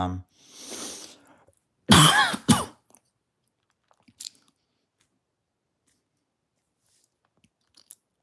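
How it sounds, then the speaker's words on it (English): A person clears their throat and coughs, a harsh burst followed by a loud double cough, then quiet with a few small clicks and mouth sounds. "I just coughed"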